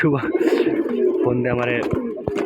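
Pigeons in a sky pigeon loft give soft, throaty coos close by, several overlapping calls in quick succession.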